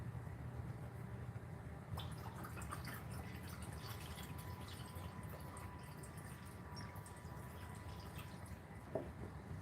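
Water trickles and drips steadily into a callaloo garden experiment, a soft continuous pouring with faint splashes and a small plop near the end, heard alone and quietly.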